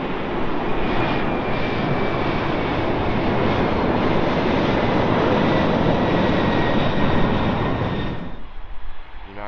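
A United Airlines Boeing 767 jet landing at London Heathrow, inbound from Newark, roars loudly and steadily at close range with a high engine whine, then fades quickly near the end.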